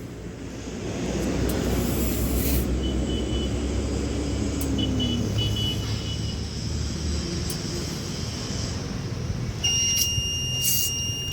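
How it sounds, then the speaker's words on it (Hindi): A Tata puncture-kit air compressor inflates the front tyre of a Tata Tiago, its motor running as a steady, close droning hum with a few thin high beeps near the end. "तो फ्रंट में अभी हवा डाल रहे हैं।"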